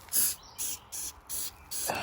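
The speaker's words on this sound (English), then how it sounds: "spray it down with Lysol" Several short bursts of Lysol disinfectant aerosol spray hiss, each about a quarter second, separated by brief pauses, close and fairly quiet, sprayed onto a ThinkPad laptop.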